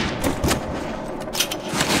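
Rapid bursts of gunfire from the video game Rage crack out in quick, uneven succession, loud and dense over a busy background.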